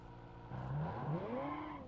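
A 10-litre flatplane V8 engine in the BeamNG.drive driving game revs up from a low idle, the pitch climbing in one steady sweep and then holding high and smooth. It is fairly quiet and heard alone.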